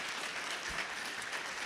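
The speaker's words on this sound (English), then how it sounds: "can you give my fantastic panelists a round of applause?" A convention audience at a San Diego Comic-Con panel applauds the panelists, a brief, even wash of many hands clapping throughout, heard from within the crowd with no voices.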